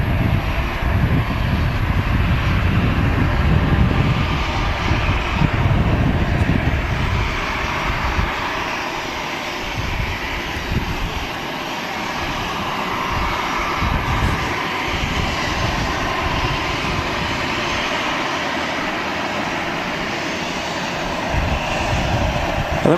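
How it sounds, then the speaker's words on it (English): An Air Canada airliner lands at Manchester Airport, its engines producing a loud, steady roar that later shifts into a broadband rush with a faint distant whine, heard from outside without voices. "Another Very textbook touchdown from the Air Canada crew there."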